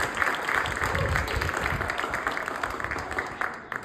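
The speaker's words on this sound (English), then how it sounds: "Can we get another round of applause for" A concert audience at an alumni band performance breaks into sustained applause, a dense wash of clapping that holds steady for several seconds before thinning slightly near the end.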